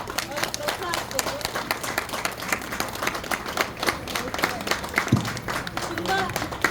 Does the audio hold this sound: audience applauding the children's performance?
yes